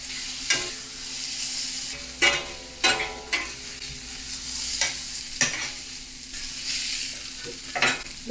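Chicken fried rice sizzling in a hot pan while a utensil stirs it with sauce, steady frying hiss under repeated sharp scrapes and clacks against the pan, close and fairly loud.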